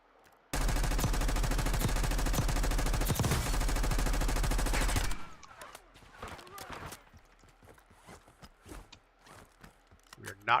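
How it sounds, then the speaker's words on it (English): Gunfire in the Call of Duty Warzone video game: a loud sustained burst of rapid automatic fire for several seconds, followed by scattered quieter shots and footsteps. "A lot of gunfire behind us."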